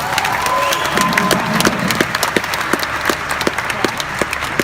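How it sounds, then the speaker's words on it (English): Large crowd at a cryptocurrency conference event applauds and cheers, a thick wash of clapping with distinct individual claps standing out and a few shouts, loud and close, thinning slightly toward the end. "Can you give all of yourselves one big applause?"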